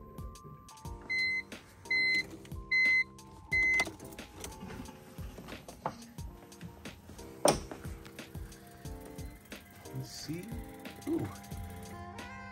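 The upgraded fuel pump in a BMW E46 primes with a low mechanical whir and hum, preceded by a short series of regular electronic chime beeps from the car, with a few clicks and rattles in between.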